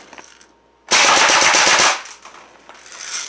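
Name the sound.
Umarex EBOS electronic BB gun firing 8-shot burst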